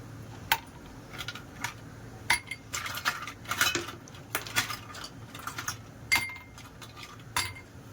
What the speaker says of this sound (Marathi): आता आपण बर्फ टाकून घेऊया